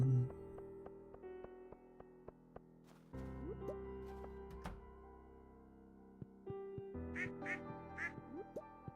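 Ducks quack in the farming video game Stardew Valley, several short nasal calls scattered across the stretch amid soft game clicks and thunks, fairly quiet overall.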